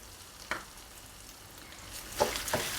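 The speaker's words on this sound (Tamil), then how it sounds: "துவரம்பருப்பு வந்து நல்லா பொன்னிறம் ஆகிற வரைக்கும் இந்த எண்ணெயிலே நல்லா வறுத்துக்கணும்" Toor dal and grated coconut frying in hot oil in a pan, a steady soft sizzle with a few light stirring scrapes and clinks, close and moderately quiet with no talking.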